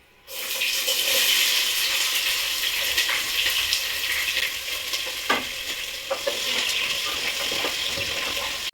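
Sliced onions hiss loudly as they hit hot oil in a pan for chicken biryani, a sudden steady close sizzle with a few stirring clinks and scrapes.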